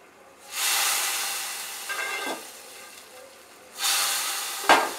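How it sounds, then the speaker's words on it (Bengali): Fried vermicelli goes into boiling milk for sheer khurma, setting off two close bursts of hissing sizzle, each fading after a second or two, followed by a sharp clink. "এবার এটাকে আমি দিয়ে দিচ্ছি এই ফুটন্ত দুধের মধ্যে।"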